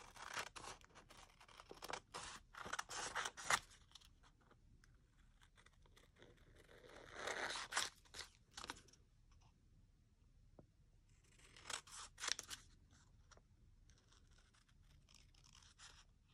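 Scissors cut out a paper craft piece at a desk, producing faint, close snips and paper rustles in irregular clusters with quiet gaps in between.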